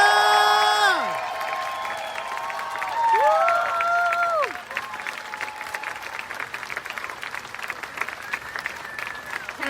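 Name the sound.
audience applause and cheering for a poet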